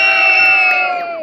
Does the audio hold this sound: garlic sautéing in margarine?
no